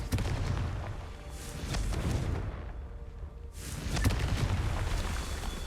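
A Confringo blasting curse goes off in the Hogwarts Legacy video game, delivering heavy, booming explosive bursts with rumbling low-end weight, a short lull, then another loud blast.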